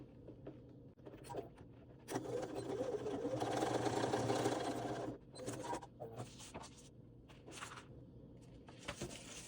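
A sewing machine bastes the back panel of a waist pack, stitching in a close, steady burst of a few seconds, with softer handling noises and shorter runs before and after.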